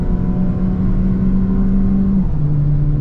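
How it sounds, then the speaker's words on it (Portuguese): A 2022 Peugeot 208 Allure 1.6 naturally aspirated engine with automatic gearbox drones steadily at high rpm near 5,000, heard from inside the cabin as a loud continuous hum that holds a tone and then shifts pitch slightly, with no talk. "Ruído do motor não tem muito por onde fugir. Aspirado, em rotação mais alta."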